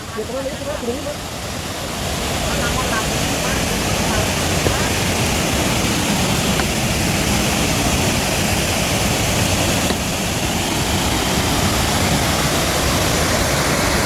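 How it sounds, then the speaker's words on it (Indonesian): Curug Malela waterfall roars as a loud, constant broadband rush of falling water, steady and close for the whole stretch with no break. "ini adalah air terjun di Curug Malela"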